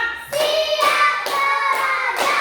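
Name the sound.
children clapping hands on count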